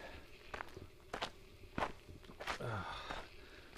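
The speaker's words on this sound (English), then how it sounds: "You can hear my feet." Footsteps on a steep hiking trail on Hood Mountain near Santa Rosa, California, soft scuffing crunches of shoes digging in for traction, close and fairly quiet, about five irregular steps.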